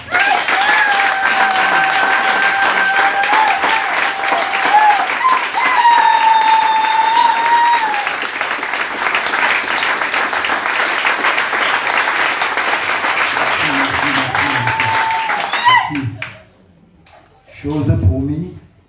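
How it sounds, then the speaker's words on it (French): Church congregation applauding and cheering loudly for the Lord at a French-language worship service, a sustained roar of clapping and voices that holds steady for about fifteen seconds before cutting off, followed by a short burst of speech. "je voudrais vraiment que vous m'aidiez à acclamer très fort pour le Seigneur"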